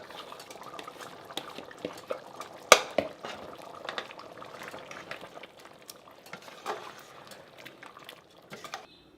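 A lamb curry sauce thickened with coconut cream bubbles and sizzles steadily in a pan, with soft stirring scrapes and one sharp clink of a utensil partway through.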